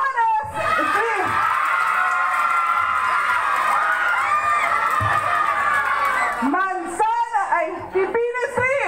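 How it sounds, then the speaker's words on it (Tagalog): Street crowd at a community meeting for Lanzones Street in Napico, clapping and shouting, with whoops and children's cries over an amplified voice, then breaking into scattered bursts near the end. "Para meron nilang palakpakan at hiyawan na Lanzones Street!"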